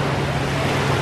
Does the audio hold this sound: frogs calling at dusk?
no